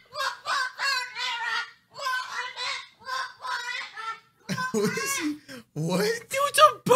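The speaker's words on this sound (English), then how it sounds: "it's a bird. I thought it was like a kid." A bird honks repeatedly in a loud, goose-like way, while several people talk and react excitedly over and between the calls.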